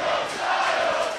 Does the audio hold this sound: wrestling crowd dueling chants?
yes